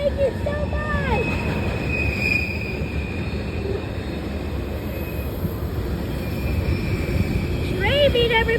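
Two trains passing each other on a railway bridge, steady rumbling wheel noise with occasional squealing tones, close and loud throughout, with people shouting excitedly over it.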